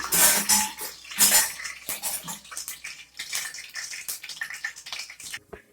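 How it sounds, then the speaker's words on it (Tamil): Fennel seeds land in a hot pan and sizzle, a loud hiss with crackling pops and occasional clinks of a metal spoon. "அப்புறம் சோம்பு போட்டு போட்டுருங்க நல்லா சூடாகிட்டு"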